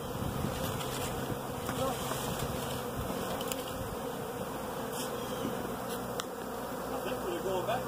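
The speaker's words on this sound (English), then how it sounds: "It does seem like there's less bees in the air than there were a minute ago." Dense swarm of honey bees buzzing steadily in open air at a bee ranch, a continuous close droning hum with many overlapping wingbeats and no pauses throughout.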